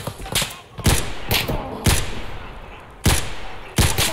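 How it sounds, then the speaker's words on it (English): Gunfire from other players in Escape from Tarkov, a series of about six loud, separate shots with sharp cracks and booming tails, spaced irregularly about half a second to a second apart. "Oh, people are shooting at me."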